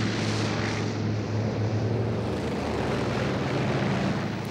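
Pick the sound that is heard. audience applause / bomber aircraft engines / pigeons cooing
bomber aircraft engines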